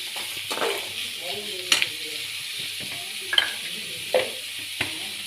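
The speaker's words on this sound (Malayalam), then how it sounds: "അതുകൊണ്ടാണ് ആദ്യം സവാള മാത്രം ഇട്ട് വഴറ്റുന്നത്." Sliced onion sautéing alone in a pan for a quick Kerala tomato chutney, with a soft sizzle under several sharp spoon scrapes and taps against the pan at irregular intervals.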